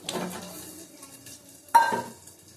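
Potatoes are tipped into a pan of frying prawn curry with jackfruit: a soft stirring scrape and sizzle, followed by a sharp clatter as the pieces land in the pan. Close by, with no talk.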